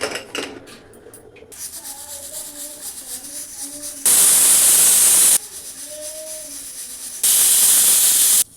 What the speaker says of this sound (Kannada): ಇವಾಗ ನೋಡ್ರಿ ನಮ್ದು ಸೀಟಿ 2 ಸೀಟಿ ಹೊಡೆದಿದ್ದಾವೆ